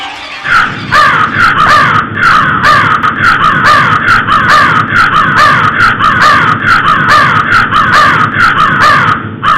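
Crows caw over and over in a steady, loud, rhythmic series of harsh calls, close and continuous, with a faint murmur of background noise beneath.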